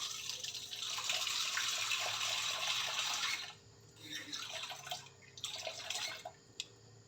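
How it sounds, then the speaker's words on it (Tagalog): Water poured from a container into a mixing bowl, a steady splashing stream for a few seconds, then shorter trickles and drips, fairly quiet. "So, lagyan natin to ng water."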